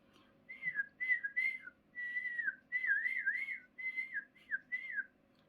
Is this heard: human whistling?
yes